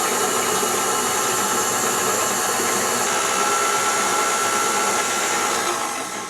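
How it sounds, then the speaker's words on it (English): An electric mixer creaming eggs and vanilla for strawberry shortcake batter: a continuous high-pitched motor whine, loud and close, holding steady before tapering off at the end. "Now I'm going to mix that again until it's really creamy."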